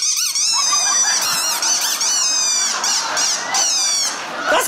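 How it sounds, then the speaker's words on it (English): A squeaky toy squeaker held in the mouth, producing loud, continuous high-pitched squeaking in rapid wavering bursts, close and dominant, with an audience's faint reaction underneath. "with this squeaker in your mouth, you now have the ability to make anything you want squeak anywhere you go."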